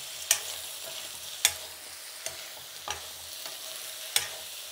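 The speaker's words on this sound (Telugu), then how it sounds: "ఇప్పుడు దీన్ని బాగా కలుపుకుందాము." Fried drumsticks with onions crackle in a pan under a steady, quiet sizzle, while a spoon scrapes and stirs in sharp, irregular strokes about five times.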